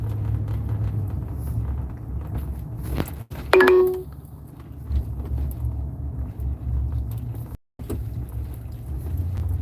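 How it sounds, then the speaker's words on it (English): A car passes on the road outside another vehicle, heard as a low swelling rumble over steady engine and road noise, with a short chime and a brief dropout, no talking. "And there's a car coming."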